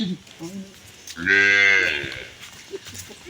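A Sahiwal or Brahman cow gives one long, loud, close moo that swells and fades, with brief murmurs of talk before and after.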